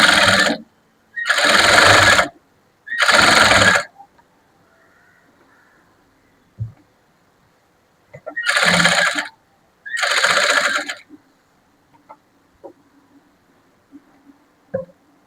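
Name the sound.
sewing machine stitching a blouse neckline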